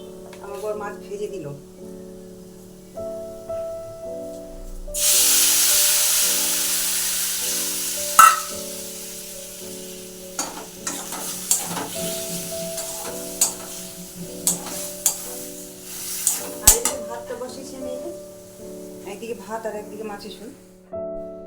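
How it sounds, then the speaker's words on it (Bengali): Potatoes sizzle steadily frying in a pan, with scattered scraping taps of stirring and a low tonal hum underneath. "আলুটা ভাজা হলো"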